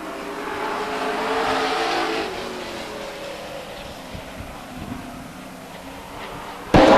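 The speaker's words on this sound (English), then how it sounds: "Two of the fastest cars on the track, head to head, going into turn 3 off of 4." Race cars at Stockton 99 Speedway, a short oval track, sweep by head to head, their engines a loud swelling roar that fades into a distant drone before a sudden sharp burst at the end.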